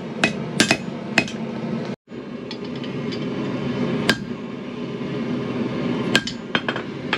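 A hammer strikes a blade on an anvil during forging, sharp ringing blows spaced irregularly over a steady background hum, with a brief dropout partway through.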